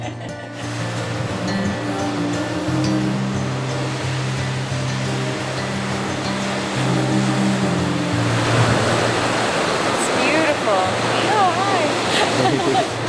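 Surf rolls steadily onto Waihi Beach in New Zealand, a continuous wash of breaking waves that swells slightly louder midway, with a voice speaking faintly over it.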